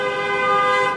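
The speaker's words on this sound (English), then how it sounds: "There was like car honking." A car horn honks steadily outside for about a second, a sustained bright tone at fairly strong volume with no speech over it.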